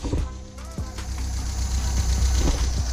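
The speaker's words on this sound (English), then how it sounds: "the car might be sorted out. It is idling amazing, actually" A 1974 MG MGB engine with HIF4 carburetors idles with a low, steady rumble and slight knocking pulses, fairly close and unaccompanied by talk.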